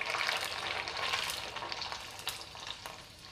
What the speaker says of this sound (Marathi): आता आपण पापड तळून घेऊयात.